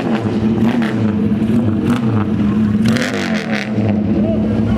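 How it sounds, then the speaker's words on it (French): A racing motorcycle, an MV Agusta among supercars in Knokke, roars with rising and falling revs, a loud throaty engine note close by, with some crowd noise mixed in. "la moto de course fait un bruit de bâtard"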